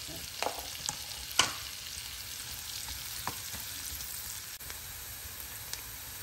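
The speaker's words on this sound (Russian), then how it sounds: "На сливочном масле обжариваем мелко нарезанную луковицу." Finely chopped onion fries in butter in a pan, a quiet steady sizzle broken by a few sharp clicks of stirring.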